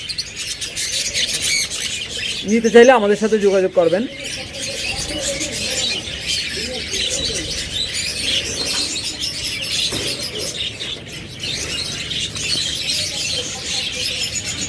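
Budgerigars and other cage birds, including lovebirds, cockatiels and finches, chirp steadily in a bird-seller's shop, with one loud squawking burst early on and someone talking over the chatter.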